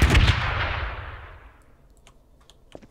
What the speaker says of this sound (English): That one exploded.